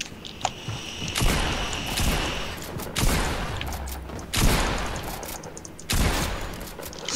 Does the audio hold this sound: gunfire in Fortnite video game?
yes